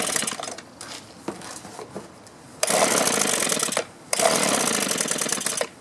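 A two-stroke string trimmer engine on half choke sputters and hesitates before surging into two louder bursts of steady, raspy running, close and with no talking.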